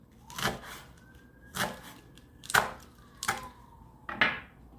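A knife chops Swiss chard into roughly 2 cm pieces on a cutting board, with a series of separate, fairly close thuds spaced about a second apart.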